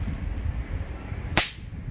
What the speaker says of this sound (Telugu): ఈ బాంబుల్ని ఇట్లా కిందకేసి కొట్టాలి